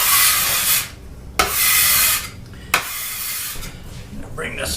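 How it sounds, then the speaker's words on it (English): A spatula scrapes around a bowl of apple pie mixture in three separate rasping strokes, each a few seconds of close, bright rubbing with short pauses between them. "Scrape this down a little bit."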